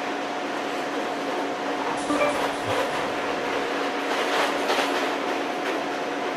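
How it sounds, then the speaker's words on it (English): An 8-car passenger train in Train Sim World runs along steadily, a constant rolling rumble and electric whine with faint clicks and rattles, no talk over it. "I'm driving 8-car train, not a 4-car train as usual on the WSC"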